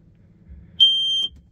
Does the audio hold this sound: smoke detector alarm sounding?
yes